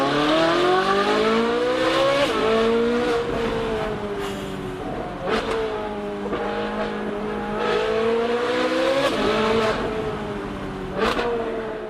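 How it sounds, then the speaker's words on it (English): A Ferrari 458 Speciale V8 revving at very high RPM: loud, continuous, near engine wail rising and falling through several shifts, with brief dips between pulls and no talk. "it's so high RPM that it almost feels like a V10"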